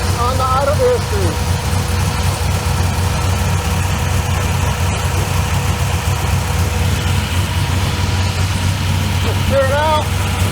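An engine idles steadily on a 4150 carburetor running E85 during idle air tuning, with a loud, continuous low rumble throughout and a voice speaking briefly near the start and again near the end.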